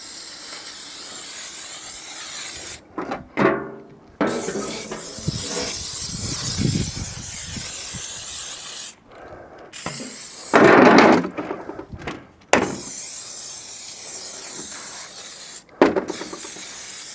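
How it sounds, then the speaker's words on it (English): Spray can of WD-40 type light oil hissing onto a rusty Locomobile steam engine, several long bursts separated by short pauses, close and loud. "some WD-40 type stuff, light oil to stop it from rusting, liberal coating"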